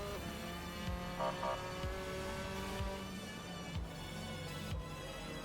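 Trabant engine in Assetto Corsa on the Nordschleife: a buzzy two-stroke drone that rises in pitch, drops at each gear change roughly every second, and climbs again, steady and close, with no voices.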